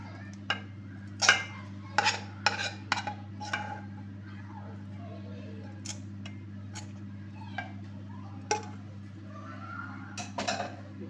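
Eggless plum cake batter being stirred in a bowl, heard as scattered spoon clicks and taps against the side of the bowl over a steady low electrical hum.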